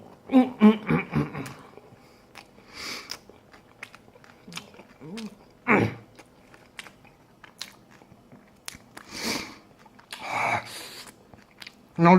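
Someone bites into and chews a McDonald's spicy chicken burger up close, with several crisp bites and wet, crunchy chewing spread irregularly between quieter pauses.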